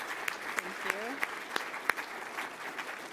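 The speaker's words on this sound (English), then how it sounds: "let's give them all a real big round of applause" Audience applause for speakers at a health event, moderate clapping from a modest crowd with a few distinct sharp claps and a brief voice murmuring underneath.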